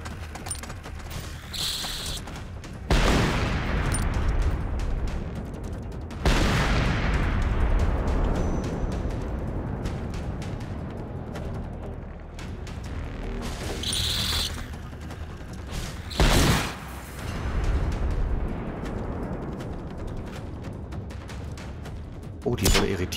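Loud bursts of gunfire and booming grenade explosions in the video game Generation Zero, several heavy blasts spread across the clip with rumbling tails and mechanical clatter between them.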